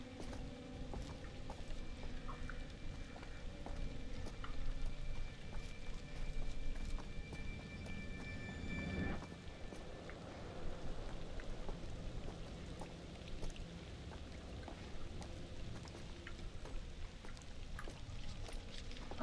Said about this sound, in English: It's just fucking rain.